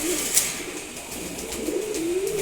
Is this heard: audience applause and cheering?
no